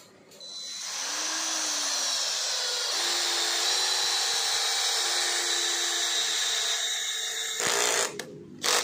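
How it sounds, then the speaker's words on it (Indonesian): Worksite CD334H cordless impact drill driving a 10 cm screw without a pilot hole: a loud, continuous, steady whine with rising pitch at the start, running for about seven seconds before stopping abruptly, then brief clatter. "Sekarang kita akan coba untuk menyekrup dengan sekrup yang lebih besar."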